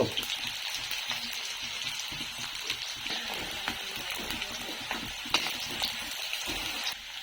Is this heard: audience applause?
no